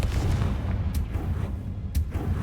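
Confringo fire spell in the game Hogwarts Legacy, a deep rumbling blast with two sharp cracking bursts over a low boom, close and loud.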